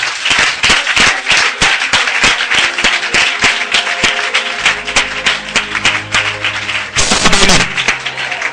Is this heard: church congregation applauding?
yes